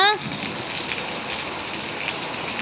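Heavy rain with water pouring from a pipe during a downpour, a loud, steady broadband wash of falling water that continues unbroken, a brief voice fragment at the very start.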